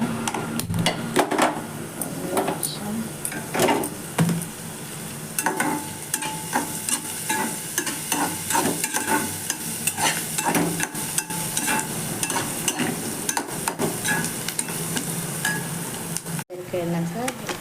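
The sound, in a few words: frying and stirring ingredients in a pan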